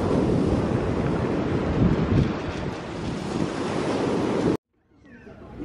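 Wind buffets a microphone over the roar of ocean surf on the seafront at Fécamp, a dense, steady wash of waves and gusts that cuts off abruptly into near silence.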